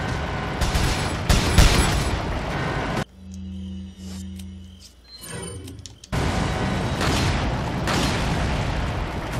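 Gunfire in Resident Evil 4 during a village fight: loud, dense bursts of shots fill the opening seconds, a quieter mechanical stretch with tonal hums follows, then heavy shooting resumes and carries through to the end.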